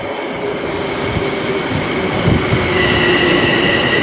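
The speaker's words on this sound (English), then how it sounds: "Here comes another train." A commuter train rolls by close and loud near a station in Bellmore on Long Island's South Shore, with a sustained roar, rail rumble and a faint high wheel squeal, no talking.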